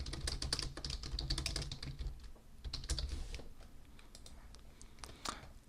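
Fingers type on a computer keyboard, producing a quick, dense burst of light clicking that slows into scattered keystrokes and fades toward the end, fairly quiet and close.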